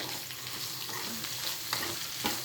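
Radish sautés in a pan for chutney, giving a faint, steady sizzle with occasional soft stirring scrapes, quiet and close, with no voices.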